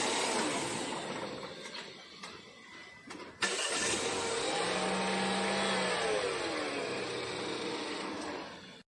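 A truck engine cranks with a jump starter, catches with a sudden burst, then runs at a steady loud roar with a brief rise and fall in pitch before cutting off, with no talking.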